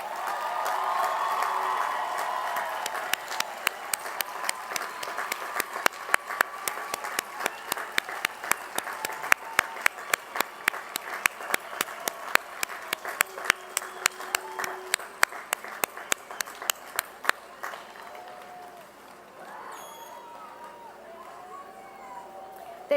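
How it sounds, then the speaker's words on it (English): Sustained applause from a commencement crowd honoring graduating students, a steady wash of many hands with sharp nearby claps standing out, fading toward the end as the room quiets. "stand for a well-deserved round of applause from the class of"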